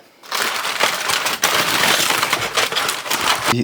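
Foil or paper crinkles and crunches loudly up close as rested smoked stuffed pork chops are unwrapped, a continuous crackling rustle with brief sharper crunches and no speech over it.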